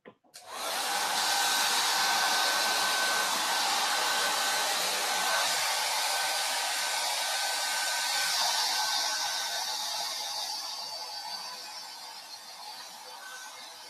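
A hair dryer blows steadily and loudly close by while hair is being blow-dried, a constant broadband whoosh that switches on abruptly and fades somewhat toward the end.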